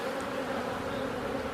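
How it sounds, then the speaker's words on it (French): Old honey bees buzz steadily in an opened hive during an early spring inspection. The insect hum is dense and continuous, close up and fairly soft, with no other sounds. "ça ici c'est toutes les vieilles abeilles, hein"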